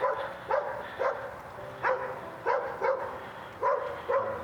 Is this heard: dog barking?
yes